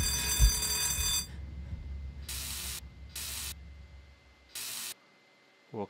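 An alarm clock rings inside the video game Dreams, in three separate bright electronic bursts, each about half a second long. The bursts follow a fading noisy hiss and are spaced by short silences. A low thump sounds at the end.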